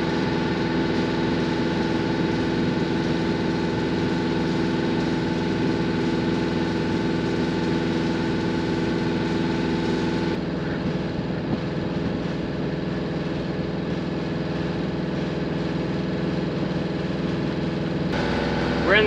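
A sailboat's inboard engine motors steadily at 2,000 RPM while cruising off New Zealand's Northland coast. It produces a continuous droning hum that holds unchanged throughout, with brief voices heard faintly over it.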